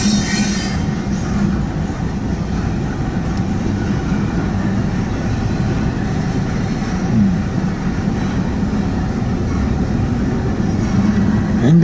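Long freight train rolling steadily past on a Norfolk Southern main line, a continuous loud rumble of wheels and cars with faint squeals and no break or gap.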